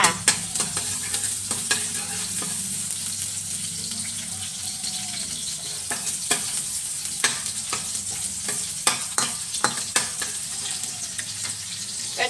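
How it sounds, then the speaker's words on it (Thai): Chopped garlic stir-fried in hot oil in a pan for a spicy seafood curry-paste dish, with a steady sizzle and repeated scraping and clinking strokes of the spatula close by. "ใส่น้ำมันลงไปแล้วก็ใส่กระเทียมที่เราสับไว้ลงไปค่ะ พัดกระเทียมให้หอมจ้า"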